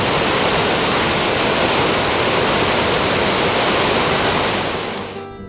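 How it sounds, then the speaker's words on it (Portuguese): Loud, steady roar of water pouring over the spillway of the Acauã dam (Argemiro de Figueiredo dam) in Paraíba, Brazil, a continuous broadband rush that fades slightly at the very end, with no voices. "A sangria é o ápice dos reservatórios."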